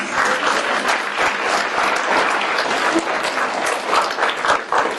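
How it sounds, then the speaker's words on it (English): Audience at a Vietnamese community panel event applauding the panelists, dense continuous clapping from a crowd, loud and sustained throughout. "can we give our panelists a big round of applause?"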